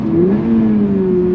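Engine of a 2024 Toyota GR86 Performance Pack revving steadily through a heel-toe downshift, a strong sustained mid-pitched drone that rises and settles slightly, loud and close throughout with no talk.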